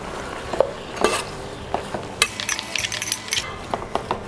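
Biryani ingredients being mixed in a pot with curd, chili powder, green chilies, tomato and coriander, heard as scraping, clinking spoon strokes and light rattles, close and uneven, growing busier toward the end.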